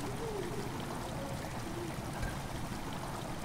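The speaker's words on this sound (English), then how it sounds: "Water has begun to slowly fill up." Water steadily streams and trickles in a dark dungeon of Amnesia: The Dark Descent, a continuous soft flowing wash with faint tonal creaks, with no voices over it.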